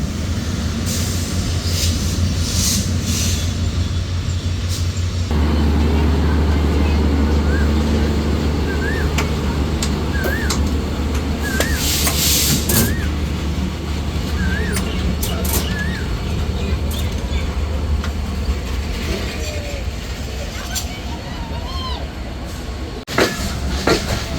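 Barendra Express intercity train running, a loud continuous rumble and rattle of carriages with rhythmic clatter, a passing horn-like tonal whine in the middle, and faint voices now and then.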